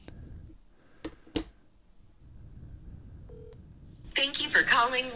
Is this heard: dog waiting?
no